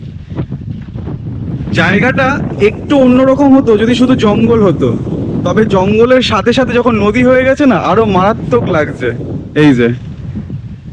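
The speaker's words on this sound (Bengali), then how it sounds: "কত সুন্দর হাওয়া আসছে বুঝতে পারছি না আওয়াজ শুনে" Wind gusts at the edge of Bhabapur Forest beside the Darakeswar River, making a low, steady rumble against the microphone. A person talks loudly over it throughout.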